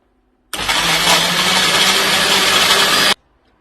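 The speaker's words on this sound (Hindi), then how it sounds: "मैं थोड़ा सा पानी डाल के इसको ग्राइंड कर रही हूँ।" A mixer grinder grinds mint chutney with a little water added, starting abruptly into a loud, harsh, steady roar that lasts about two and a half seconds before stopping sharply, with quiet before and after.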